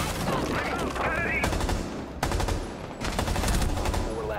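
Light machine gun fire in Rainbow Six Siege, several rapid sustained bursts separated by brief pauses, loud and close, with other game sounds layered faintly beneath.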